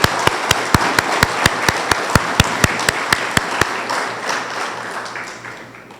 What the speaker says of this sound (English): Please join me in a round of applause for the university and the partnership we have forged